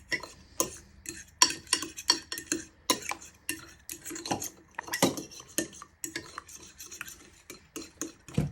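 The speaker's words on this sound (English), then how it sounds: "Now I'm going to start giving these a good whisk till they are all broken down" A fork whisking ingredients in a bowl to break them down for a white chocolate orange cake, rapid irregular clinking taps against the bowl in quick bursts, close and clear with no voices.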